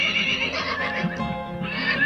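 Horses neigh and whinny loudly and continuously, with hooves clip-clopping underneath, during a six-day race against riders on a 12-foot-wide track at San Francisco's Mechanics Pavilion.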